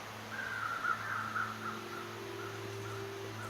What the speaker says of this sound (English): Interestingly, there are birds there.